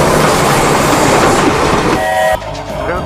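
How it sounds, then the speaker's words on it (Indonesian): A toy train runs with a steady rattling clickety-clack and a brief horn-like tone near the end, close and fairly loud, with no talking over it. "Wah, ada kereta api teman-teman."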